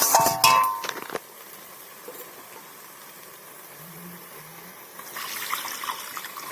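Water poured into a pan for a thin chutney with salt and prawns to come, opening with clinks and a brief splash, then a quiet lull before a softer rush of pouring near the end; no talking.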